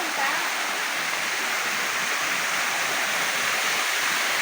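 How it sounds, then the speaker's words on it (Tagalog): Libtong Falls roars as a loud, constant wash of falling water close by, a dense unbroken rush with no pauses. "Libtong Falls guys."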